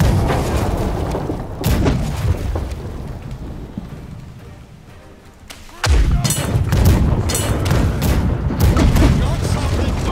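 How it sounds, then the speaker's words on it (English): Ship cannons firing in the naval game Blackwake, deep booms with thudding impacts, one heavy blast near the start and another around the middle, then a dense stretch of loud rumbling fire, with crew voices shouting over it. "Starboard side front cannon."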